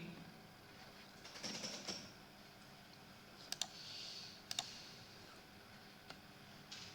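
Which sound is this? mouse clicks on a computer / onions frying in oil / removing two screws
mouse clicks on a computer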